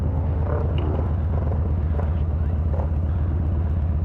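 A Yamaha Bolt motorcycle engine rumbles low and steady up close, with a throbbing pulse as the rider pulls a wheelie, continuous throughout with faint voices in the background.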